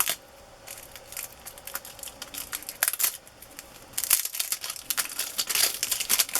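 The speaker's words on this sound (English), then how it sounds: "Cellophane is brittle." Brittle vintage cellophane crumpled by hand at close range, giving dense crinkling crackles in irregular bursts throughout, with no speech.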